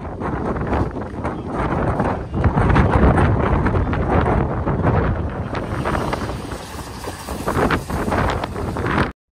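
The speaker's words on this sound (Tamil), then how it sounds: "லெஃப்டில் தான் எதிர் திசையில் காற்று அடிக்கிறனால ஃபோர்ஸ் ரொம்ப அதிகமாக பட்டு" Strong gusting wind buffets the microphone on the new Pamban bridge, a loud continuous roaring rumble with surging gusts that rise and fall across the whole stretch.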